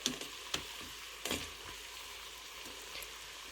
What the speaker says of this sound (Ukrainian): Накриваємо, хай картопелька далі готується.